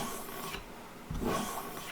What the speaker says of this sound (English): This will hone that edge to very, very sharp.